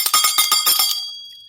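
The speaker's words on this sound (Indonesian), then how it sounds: "Lonceng pulang sekolah telah berbunyi." A school bell rings for home time, a bright metallic ringing in a rapid run of about nine strokes that then fades into a decaying ring, loud and alone with no talk.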